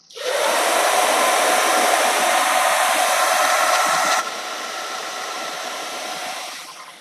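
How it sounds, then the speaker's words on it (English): A hair dryer blows steadily and loudly on paint over craft foam, dropping to a lower setting partway through before it winds down at the end. "I would give it a quick blow dry"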